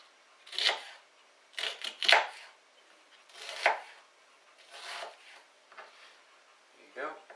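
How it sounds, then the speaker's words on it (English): A knife chopping an onion on a board during soup preparation, a few separate crisp cutting strokes in irregular bursts, close and fairly quiet, with a voice speaking between the cuts. "turning it round and chopping it the other way, like that"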